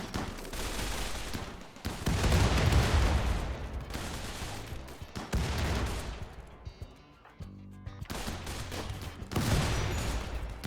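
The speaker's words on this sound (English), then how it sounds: "Alright, so these turrets are opening up." Turrets firing in the video game Rimworld, dense bursts of rapid gunfire that come in several loud waves with short lulls between them.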